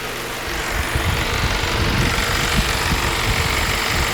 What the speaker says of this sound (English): the AC compressor should turn on